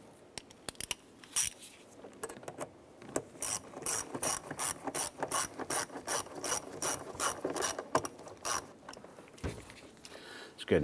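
Ratcheting clicks from tightening the clamp on the air intake tube of a 2009-2015 Honda Pilot, rapid bursts of ratchet and rubbing mechanical sounds repeating close up without talk.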